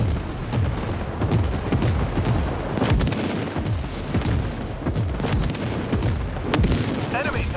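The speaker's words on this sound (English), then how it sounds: "Friendly airstrike incoming." An online World War 3 shooter set in a burning Moscow fills with loud, dense booms of airstrike explosions and artillery fire, heavy blasts and crackling impacts overlapping continuously at close range.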